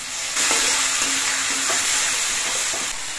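Onion-garlic paste fries in a pan as green chili paste and tomato paste go in, giving a steady close sizzle with scraping stirs that keep up throughout, and no talking.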